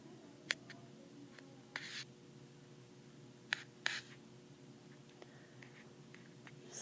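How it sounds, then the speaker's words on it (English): Pencil writing on paper while working a maths problem, faint scratching strokes with a few sharper taps and scrapes against a quiet room hum. "So start off by writing."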